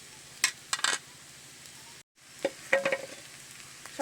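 Chow mein is stir-fried in a pan with fried egg added, giving a soft sizzle under brief bursts of utensil scraping and clinks, a short pause, then more stirring clatter.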